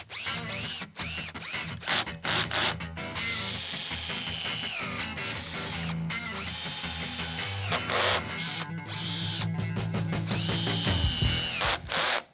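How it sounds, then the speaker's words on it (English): A power drill drives screws into 2x4 wood braces, whirring in repeated long bursts with brief stops between each screw, loud and close, with the motor pitch shifting as screws bite. "Start sending them screws in."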